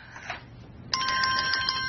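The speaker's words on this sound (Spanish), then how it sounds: "Me da un vuelco el corazón cada vez que suena el teléfono." A telephone rings in a dubbed Spanish drama scene, its bright electronic trill starting abruptly after quiet background murmur and continuing steadily to the end.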